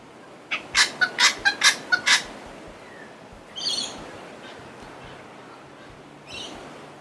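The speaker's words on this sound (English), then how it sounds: "On our trek, we met plenty of wildlife and heard some birds singing as well." Birds calling along a bush trek in the Hunter Valley, a quick burst of five or six loud gobbling notes, then a couple of fainter separate calls over quiet outdoor background.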